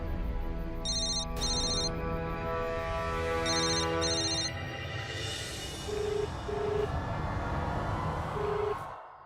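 A telephone rings again and again unanswered in a Hindi TV drama scene, electronic ringtone bursts repeating in short groups over a steady background of music and room tone, fairly loud and close.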